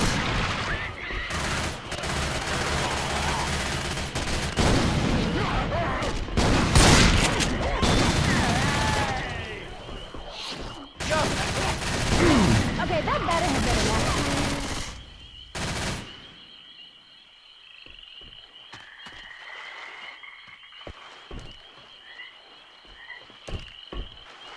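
Bursts of rapid gunfire in the Left 4 Dead 2 Swamp Fever campaign, dense and loud for about fifteen seconds, then fading to scattered quieter sounds, with voices talking over the shooting.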